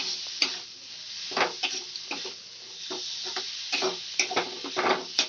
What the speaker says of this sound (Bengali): ভেজে রাখা আলুটা দিয়ে দেব। মশলার সঙ্গে ভালো করে মিশিয়ে নেব।